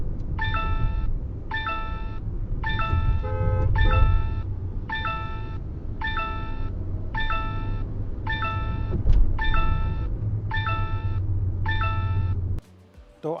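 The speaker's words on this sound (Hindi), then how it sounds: "और कैमरा हमें अलर्ट दे रही है, स्पीड लिमिट अलर्ट।" An IZI Drive+ 4K dash cam with ADAS and GPS sounds its speed limit alert inside a car nearing 70, a steady train of about eleven evenly spaced electronic chimes over constant road and engine rumble.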